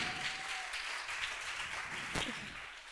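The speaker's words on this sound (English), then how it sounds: "Please give a big round of applause for Emmanuel." An audience gives a round of applause at a school talk, steady clapping heard from a moderate distance at low volume, with one brief sharp knock partway through.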